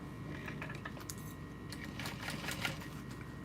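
A sewing machine stitching over basted pleats on a backpack, a fast, light, continuous clatter of the needle heard close up at moderate volume.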